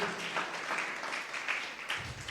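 A church congregation at a Holy Mass festival applauds to welcome the priest. The dense, steady clapping from many people fills the space at moderate loudness, with small swells throughout.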